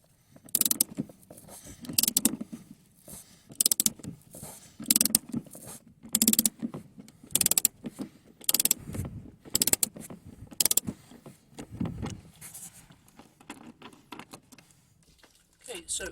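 Bolts on a Toyota Celica VII passenger seat are worked loose with a socket on a long extension, giving repeated short bursts of ratcheting and metallic clicks in a close, rhythmic pattern across the whole stretch.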